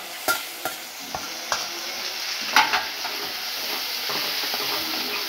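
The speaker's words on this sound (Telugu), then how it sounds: "పసుపు వేసేసుకున్న తర్వాత మళ్ళీ ఒకసారి తిప్పేసుకుందాం" A spoon stirs turmeric into a pan of frying green banana curry, with several sharp scrapes and taps against the pan over a soft, steady sizzle.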